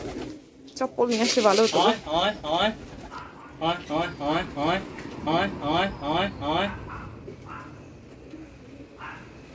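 Lakka pigeons at a backyard loft give a rhythmic run of about a dozen repeated calls, near and fairly loud, while a person speaks briefly at the start.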